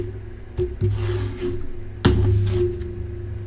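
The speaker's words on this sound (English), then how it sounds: "I'm shuffling again." A tarot card deck being shuffled up close, with a few separate sharp riffles and snaps of cards against a low steady hum, the loudest burst coming midway.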